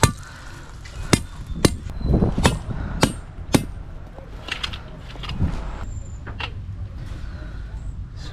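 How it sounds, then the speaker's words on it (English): Sharp taps of a hammer setting paver stones for a walkway strike at irregular intervals, several in a row, with faint background noise and occasional voices. "Set them with our hammer a little bit so we can get a true gauge"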